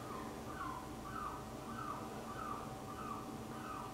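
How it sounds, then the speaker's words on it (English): Crows caw outside in a steady series of about six harsh calls spaced evenly apart, faint and distant against a low room hum. "Those birds."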